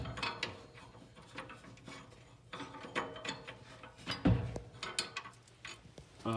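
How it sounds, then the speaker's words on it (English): Bolts for the rear bumper mounting bracket on a 5th gen Toyota 4Runner are turned in with a ratchet, producing rapid clicking pawl bursts and metallic rattles, close and fairly quiet. "start threading in those 2 bolts"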